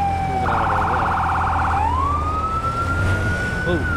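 Wailing fire engine siren in the Firefighting Simulator: The Squad video game, a sustained electronic tone that sweeps and warbles rapidly before rising into a long steady wail, loud and close under a low engine rumble.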